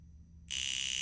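A sharp, loud mechanical alarm wristwatch suddenly starts buzzing and keeps ringing with a rapid rattling pulse, close by and alone.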